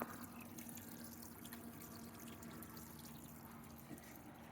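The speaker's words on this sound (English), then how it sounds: "I'm filtering the water as it comes out, and then pumping it into the back of the bed of the truck." Submersible sump pump sitting in a 5-gallon bucket, pumping filtered water into the back of a truck bed, gives a steady low motor hum under a continuous trickling, pouring rush of water. No one speaks.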